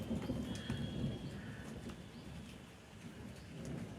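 Steady rain falls with low rumbling thunder throughout, a dense, continuous wash of sound heard alone without voices.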